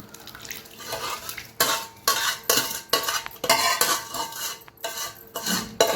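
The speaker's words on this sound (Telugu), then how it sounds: "ఇప్పుడు మనం చల్లారిన తాలింపు వేసుకుందాం." A spoon stirs cooled oil tempering into chili powder for mango chutney in a metal bowl, making rhythmic scraping and clinking strokes, each a sharp burst at a fairly even pace, with no talk.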